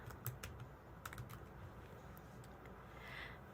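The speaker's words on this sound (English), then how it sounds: "So if they start typing the property address," Typing on a computer keyboard while entering a property address in real-estate software, heard as a few quiet, scattered key clicks over a low steady room hum, with no one talking.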